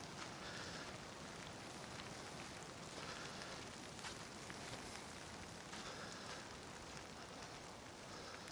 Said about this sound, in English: Nice bit of background rain there for you.